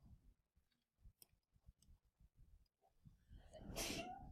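A single sneeze from a person during a quiet math lesson on parametric equations, a faint sharp burst near the end after soft scattered taps and clicks.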